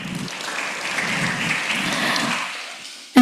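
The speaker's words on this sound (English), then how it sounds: "Once more, please give a round of applause for Prof." Conference audience giving a round of applause after an academic talk, a sustained dense wash of clapping that fades near the end before a sudden loud noise.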